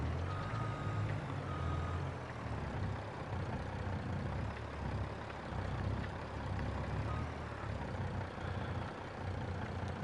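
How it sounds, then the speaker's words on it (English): A truck reversing into a parking spot, its engine rumbling steadily throughout with a faint repeating backup beep, heard close by with no talking. "I'm going to park my truck in,"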